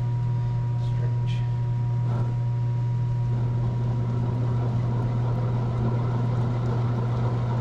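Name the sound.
noisy bearing in Polaris 700 engine turning slowly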